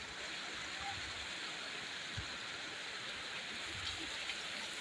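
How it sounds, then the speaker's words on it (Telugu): Floodwater from heavy rain flows into houses along waterlogged town roads, a steady rushing hiss with no breaks, heard at a moderate distance. "ఇళ్లలోకి చేరుతున్న నీళ్లు"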